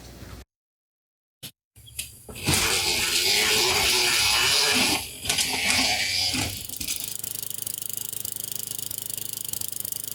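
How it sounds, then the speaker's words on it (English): A bench wire wheel spins loud and continuous while a mower carburetor bolt's threads are cleaned against it, with a brief interruption partway and a lower hum afterward. "I'm gonna go run them on the wire wheel"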